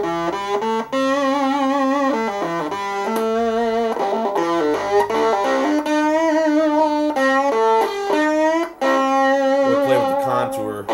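Guitar through a UMI Buzztone Expander pedal with the buzz control turned up, playing a melodic run of sustained single notes with a nasal, harmonically rich buzz, close and fairly loud for about eleven seconds, with no talking.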